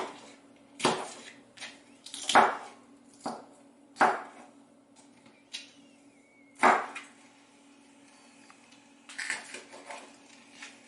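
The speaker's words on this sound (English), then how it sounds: "We'll chop the end of that pepper off right there." A knife chops through the end of a pepper on a board, a handful of sharp, separate knocks spaced a second or two apart, close and clear with no talking.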